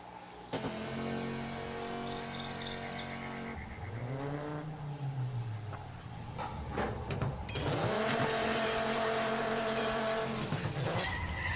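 A race car engine in the Need for Speed No Limits game revs hard and loud, its pitch sweeping up and down through gear changes, with tire squeal and skidding breaking in partway and a final surge of acceleration.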